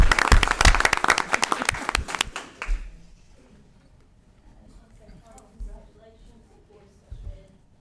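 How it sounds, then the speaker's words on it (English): A small group claps at a school board meeting, a brisk burst of applause that is loud for about two and a half seconds and then fades, followed by quiet room sound with faint talk. "So again, please give these two staff a round of applause"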